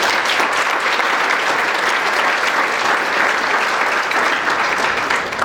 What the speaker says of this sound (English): Please a round of applause for Washburn Golf.